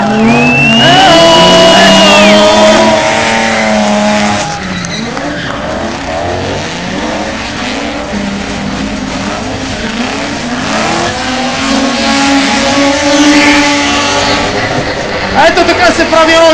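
A drift car at a drift show in Sofia slides past a wall with squealing tires and a loud, sustained engine roar, heard from inside the car with a commentator talking over it.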